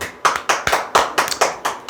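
A small group claps in about eight distinct, evenly spaced bursts, close and loud, at a lecture on telemarketing sales, with no talk over it.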